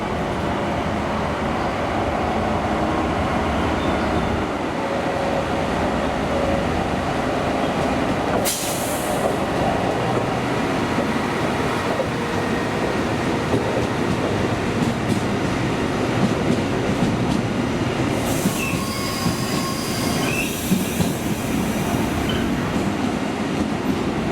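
An Indonesian-built CC 300 locomotive hauls a special test train past, a steady rolling rumble of wheels on rail with rhythmic clickety-clack and occasional faint squeals, loud and sustained without any talk.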